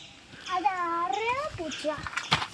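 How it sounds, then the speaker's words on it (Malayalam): A cat meows nearby in a rising and falling wail, with a brief second mew after, and someone speaking around it. "ആരുടെ പൂച്ച അത്?"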